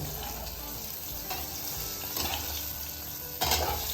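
Bitter gourd frying in a pan with onion and potato, a steady close sizzle broken by occasional stirring scrapes and a brief louder burst near the end.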